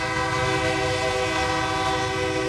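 A loud, sustained train horn blares with a low rumble of rolling rail cars beneath it, close and unbroken.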